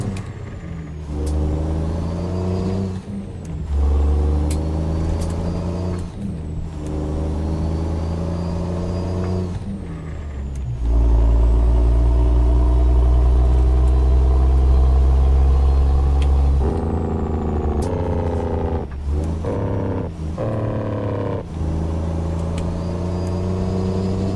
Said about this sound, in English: Detroit diesel 14 litre. It's a new updated one. Good, man. It sounds really good.